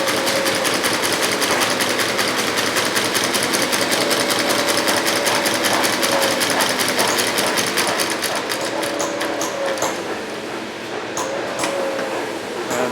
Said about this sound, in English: This is our sole stitcher. So that stitch that goes around the outside of the welt there.